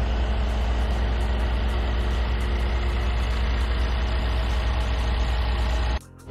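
The engine of a 2016 Mercedes-Benz G63 AMG idles steadily and close, a deep, even rumble that cuts off near the end.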